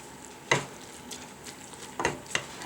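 Ground turkey for chili is stirred in a pot, giving a soft background sizzle broken by several scraping strokes of a spoon against the pot, close by and without talk.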